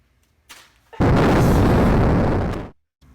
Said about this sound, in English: I'm about to drop a bomb on you.